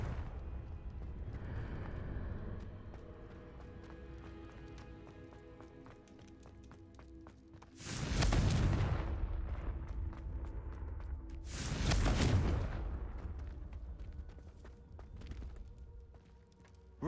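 Two loud broadband blasts from the Confringo spell in Hogwarts Legacy during a boss battle, each a sudden burst with a decaying roar, a few seconds apart over steady game music and ambience.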